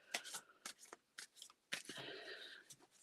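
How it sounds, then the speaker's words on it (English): Playing cards riffle and snap in quick bursts, several separate shuffles close by, ending with a longer cascading riffle. "as I shuffle the deck"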